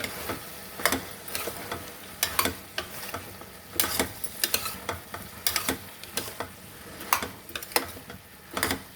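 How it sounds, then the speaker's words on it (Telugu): Chana dal being stirred into an aloo curry in a pan, village style: repeated clinks and scrapes of a spoon against the pan recur at an irregular rhythm over a soft background sizzle, close and fairly quiet, with no voices. "ఇప్పుడు శనగపప్పు వేసుకున్నాక కలుపుకోవాలి."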